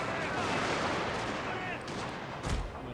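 Massed guns firing in a Shogun 2 Fall of the Samurai battle, a distant, rumbling barrage of overlapping shots with a thicker low thump near the end, fairly faint throughout.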